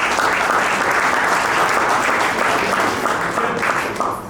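Hearty applause from guests at a football club's 70s/80s annual ball, honoring Mr. Kenywa; a dense, loud wash of clapping from a crowd that holds steady, then begins to taper off near the end.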